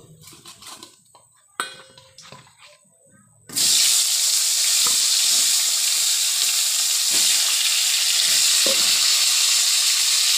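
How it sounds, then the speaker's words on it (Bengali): Eggplant pieces frying in hot oil in a pan, a loud steady sizzle that bursts in suddenly after a few soft kitchen clatters and continues unbroken to the end, with occasional small pops. "এইবার এই তেলেই বেগুনগুলো ভেজে নেব।"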